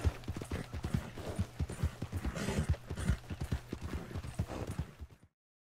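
Hooves of a horse in Red Dead Redemption 2 clip-clop in a quick, steady gait for several seconds, up close and clear, before cutting to silence.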